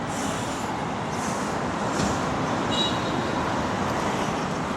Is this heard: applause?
no